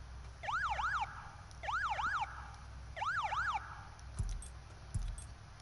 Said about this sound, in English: Here's the vanity for it. Cop Siren Yelp 2.